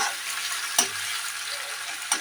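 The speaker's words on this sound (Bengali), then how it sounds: "পেঁয়াজ কুচিটা দিয়ে বন্ধুরা পেঁয়াজটা আমাকে একটু রেড করে ফ্রাই করতে হবে" Chopped onion fries in oil with a soft, even sizzle, broken by two quick spatula taps against the pan, heard close with no talking.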